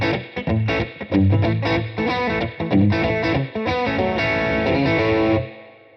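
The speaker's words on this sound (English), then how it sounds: "Nice, but I want to put a tube screamer in front of it." Electric guitar driven through a Tube Screamer overdrive pedal into an amp simulator with reverb, a busy run of crunchy chords and single notes, loud and close, ending on a ringing decay.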